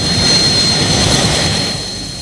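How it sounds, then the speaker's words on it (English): Light military helicopters fly over mountains with a loud, steady roaring engine and rotor wash that fades slightly toward the end, with no voices. "These light helicopters are being used to fly men and supplies to individual positions on top of peaks"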